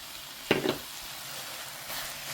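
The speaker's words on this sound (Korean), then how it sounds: "마가린이 들어가서 잘 볶아주시면 돼요" Rice stir-fried with margarine, bacon and kimchi sizzles in a pan, a low continuous frying hiss with a couple of close spatula scrapes and a brief louder burst.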